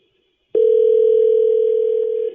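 A steady telephone dial tone cuts in abruptly after a moment of silence and holds loud and unbroken for nearly two seconds, with no voices over it.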